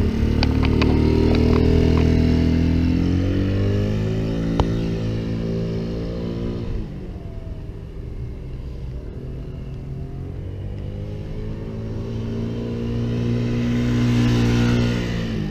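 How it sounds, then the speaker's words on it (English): A TaoTao Blade Thunder 50 four-stroke scooter on a test ride gives a close, smooth engine drone that rises in pitch as it accelerates, settles lower mid-ride, then revs up again; no talking. "this gives you an idea of how it sounds. Again, it's super quiet, four stroke."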